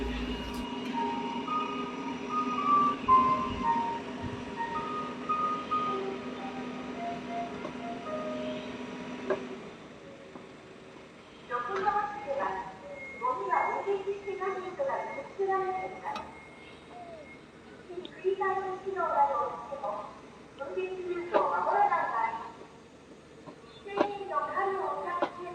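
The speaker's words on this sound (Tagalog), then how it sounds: "may music talaga yung mga truck ng basura dito" A garbage truck in Japan plays a cheerful melody of tinkling chime notes from its speaker, moderately close, with a sustained tone early on and a voice talking over it in places.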